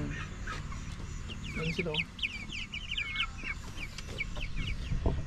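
Chicks in a backyard cheep in rapid, high peeping bursts close by, while someone talks over them.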